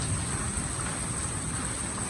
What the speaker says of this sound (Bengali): বৃষ্টি নেমেছে। মোটামুটি খারাপ বৃষ্টি হচ্ছে না।